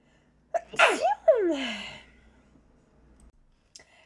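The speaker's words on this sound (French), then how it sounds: "Je vous ai épargné là, la série d'éternuements." A single loud, close sneeze from someone with allergies, a sharp intake of breath followed by a forceful burst and a trailing exhale, then near silence with a faint click at the end.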